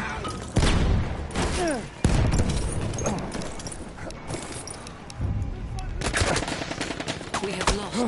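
Rapid bursts of gunfire and machine-gun shots from a game crackle over people talking excitedly.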